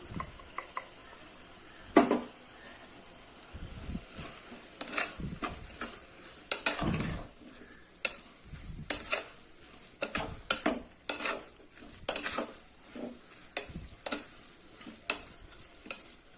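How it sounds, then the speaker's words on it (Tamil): Vegetables being sautéed with ground roasted masala powder: a spoon scrapes and clinks against the pan in irregular strokes over a faint low sizzle, close and quiet, no talking. "இது நல்லா கொஞ்சம் வதக்கி விட்டுடலாம் நம்ம ஏற்கனவே வறுத்து அரைச்சா அந்த மசாலா பொடி போட்டுடலாம்"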